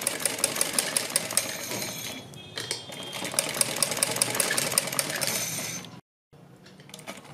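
A sewing machine stitches folded fabric into a thin cord, running with a fast, steady mechanical clatter up close, then a brief pause and a short restart before cutting out abruptly near the end, with no speech.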